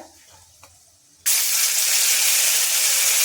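Cumin paste hits hot oil already holding red chilies, bay leaves and five-spice, setting off a sudden loud, steady hissing sizzle after a quiet moment, with no talk over it.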